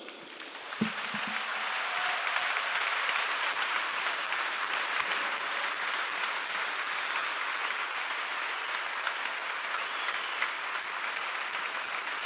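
Congregation at an Easter church service applauding, a sustained, even wash of many hands clapping that fills the room, moderately distant and steady to the end.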